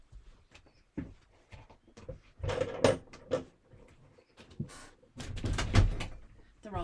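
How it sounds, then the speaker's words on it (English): A studio door is pushed shut with a couple of solid thuds and knocks between bursts of movement, fairly close, while a person talks quietly nearby. "I'm just going to close my door one second."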